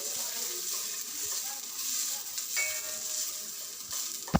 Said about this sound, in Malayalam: നമുക്ക് നന്നായിട്ടൊന്ന് വഴറ്റിയെടുക്കാം